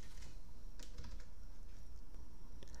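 Keys tapped on a computer keyboard while entering a tank temperature value in GHL Control Center heater setup software, a run of close, fairly quiet clicks with no talking.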